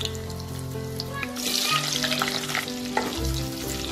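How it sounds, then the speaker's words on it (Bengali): Three diced potatoes frying in hot oil over tempered white cumin, a steady close sizzle with stirring scrapes and clinks throughout, no voices. "আলুটা আমি লাল করে ভেজে নেব।"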